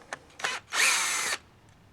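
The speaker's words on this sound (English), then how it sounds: "You can use a Phillips screwdriver, or you can use the cordless drill." A cordless drill backs out the motor brush cover screw on a Wolff Turbo machine: two brief trigger blips, then a half-second whirring run, close and loud.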